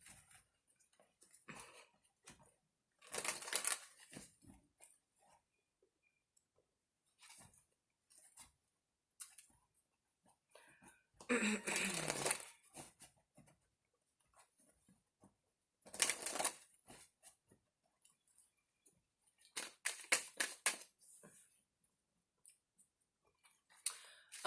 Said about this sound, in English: Now let's make sure we're shuffling.